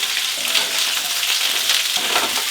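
Chicken legs frying in a very hot pan at around 180-200 degrees, a steady, loud, close sizzle that holds its intensity without a break for the whole stretch, with no talking.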